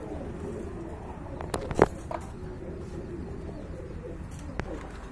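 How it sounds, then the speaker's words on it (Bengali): Beauty Homer pigeons give a soft, brief coo at close range against a steady low background hum, with a few faint chirps scattered around it. "এখানে কিন্তু আর এক জোড়া বিউটি হোমা কবুতর দেখতে পাচ্ছেন"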